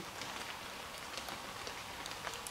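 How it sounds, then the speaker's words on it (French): Rain falls steadily in a forest, a dense, even, soft hiss of drops on leaves and ground with scattered small patters, faint and continuous, no voices. "Il pleut"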